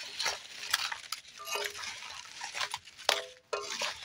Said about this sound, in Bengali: এই যে ভেজে রাখা খাজাগুলো দিয়ে দিচ্ছি, দিয়ে এবার আমি নাড়াচাড়া করে নেব